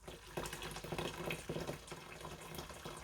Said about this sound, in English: So I'm putting in some boiling water